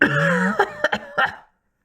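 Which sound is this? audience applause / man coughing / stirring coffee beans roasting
man coughing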